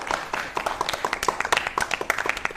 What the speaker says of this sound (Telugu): మనం జాతి నిలబడి మనం చప్పట్లు కొడుతూనే ఉంటాం